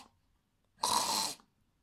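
A voice imitates a lamb snoring gently, giving one breathy, raspy snore lasting about half a second and followed by quiet.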